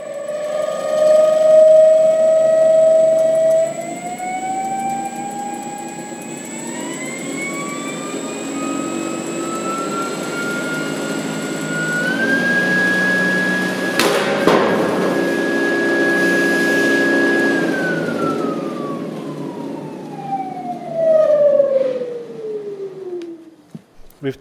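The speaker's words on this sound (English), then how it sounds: "I'm attaching a propeller and let it run in reverse direction" A 3D-printed Halbach motor drives a propeller in reverse, its loud electric whine sliding upward through stepped pitches, holding a high tone, then gliding steadily down as it spins to a stop, alone and close.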